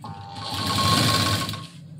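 A sewing machine stitches along the edge of a blouse sleeve, a close, continuous mechanical whir with a steady hum that runs for about two seconds and then stops, with no talking.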